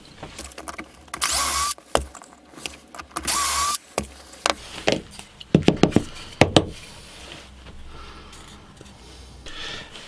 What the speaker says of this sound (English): proceed to drill these two holes out